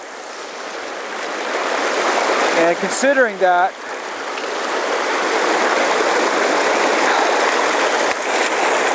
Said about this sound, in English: the flow of this creek should be up